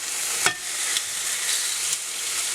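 Sea bass fillet marinated in harissa sizzles in a hot pan, a steady bright crackling hiss with a few sharper spits and pops as the fish is turned.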